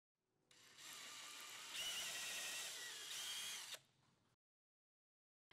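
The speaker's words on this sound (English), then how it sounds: "drill 2 pilot holes completely through the vertical using the upper holes in the pivot plate as a guide" A power drill bores two pilot holes completely through the wooden vertical panel of a Murphy bed, guided by the holes of a pivot plate; a close, loud, steady whine rises mid-run, then cuts off before a brief low tail.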